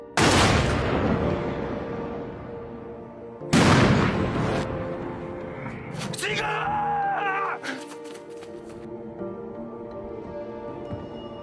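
Gunfire in a film scene: two heavy, booming shots a few seconds apart, each trailing off into a long decay over a tense musical score, followed by sharper clattering impacts.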